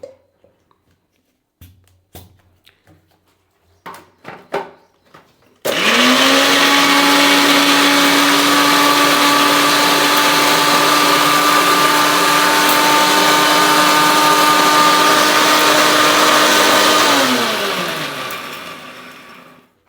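A few clicks and knocks, then an electric mixer grinder grinding spices whirs loudly at a steady high pitch for about twelve seconds before spinning down.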